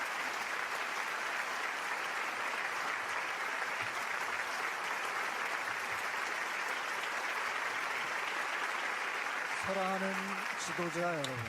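A large audience at a prestigious peace rally claps warmly in a steady, dense wash of applause that fills the whole stretch, with a voice briefly cutting through near the end.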